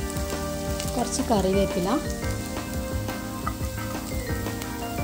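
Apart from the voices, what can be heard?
ginger frying in coconut oil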